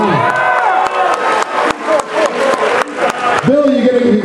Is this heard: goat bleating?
no